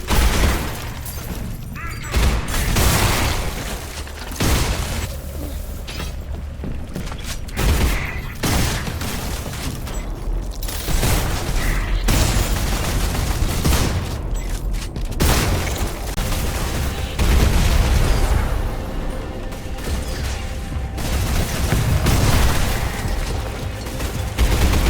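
Repeated booming shotgun blasts from the SELACO shooter game, loud and dense, firing in quick bursts with mechanical clatter between shots across the whole stretch.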